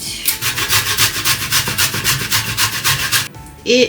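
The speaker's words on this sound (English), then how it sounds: "because I need more ginger, so let's just grate it" Fresh ginger is rubbed across a grater in fast, steady strokes, a close, loud rhythmic scraping that stops abruptly near the end.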